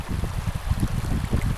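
Water rushes and burbles through a small rapid on the River Wye, a steady close churning of low splashing with no voices over it.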